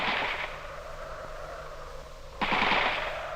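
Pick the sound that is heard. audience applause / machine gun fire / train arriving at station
machine gun fire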